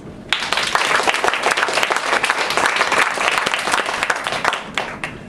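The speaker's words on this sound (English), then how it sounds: "Let's give everyone another round of applause." Audience applause after a stage show: a dense, steady wash of many hands clapping, loud and sustained throughout with no voices over it.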